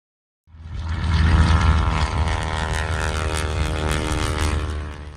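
A 1943 North American SNJ-4 warbird's radial propeller engine starting up and holding a loud, steady, throbbing roar close by, with no voices.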